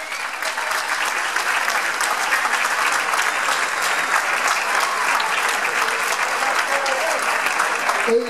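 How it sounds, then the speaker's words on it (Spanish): Audience applause for a regional dance group at a town festival in Guardo, Spain, a long, even burst of crowd clapping that stays strong throughout. "Un fuerte aplauso,"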